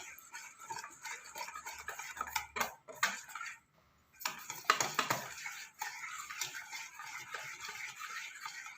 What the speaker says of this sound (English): You have to mix it for a bit so that there are no lumps.